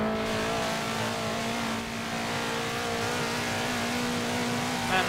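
A powerful car accelerating hard in a drag race in Forza Horizon 4, a loud, steady high engine drone held close and continuous with no talk.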